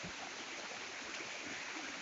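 A small forest waterfall about seven or eight metres high spilling into a stream, giving a steady, even rush of falling water with no breaks, moderately loud and close.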